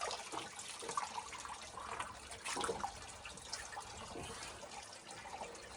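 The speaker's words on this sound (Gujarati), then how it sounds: "ત્યાંથી પાણી ટપકે છે અને આ પાણી 3-4 ફૂટ ઊંડું છે" Water trickles and drips into a deep natural rock pool in a hilly forest, a steady liquid burble with small splashy peaks, close and moderately loud, with no talking.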